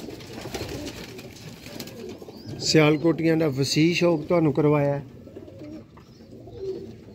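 Teddy pigeons coo in soft, repeated throaty bursts close by. Someone talks before and after the cooing.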